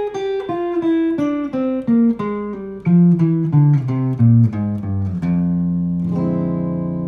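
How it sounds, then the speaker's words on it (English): Guitar playing a descending F melodic minor scale starting from C, single clean notes picked one after another in a steady falling line, ending on a ringing sustained low note. "our descending melodic minor scale would sound like this."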